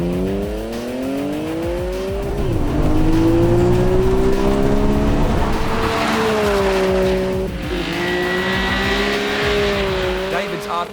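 Turbocharged Nissan GT-R street cars racing at the 2010 Motive GT-R Challenge, engines revving and shifting pitch loudly as they accelerate past, with tire noise and a crowd-like wash underneath.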